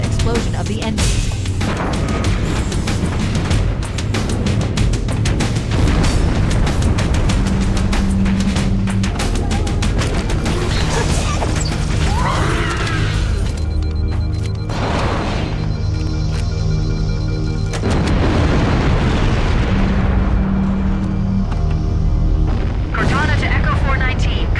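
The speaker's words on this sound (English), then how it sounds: "That should be enough to trigger a wildcat explosion of the engines." Reactor engine explosions in the Halo CE video game, heavy booming blasts and rumbling detonations layered over a dense, loud game soundtrack, with radio voices talking through parts of it.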